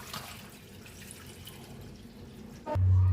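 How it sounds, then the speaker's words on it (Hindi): Water runs and drips steadily as washed rice for green chana pulao is drained, a soft continuous trickle close by, ending in a louder splash or clatter near the end. "अब हम इसका पानी ऐसे पहले निकालेंगे।"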